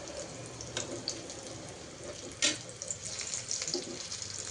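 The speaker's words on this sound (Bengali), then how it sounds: "এখন ব্রাউন কালার করে আস্তে চুলাটা কমিয়ে ভেজে নিচ্ছি আস্তে আস্তে" Potato kebabs fry gently in a pan over low heat, giving a soft, steady sizzle with a few light clinks and stirring sounds; no voices.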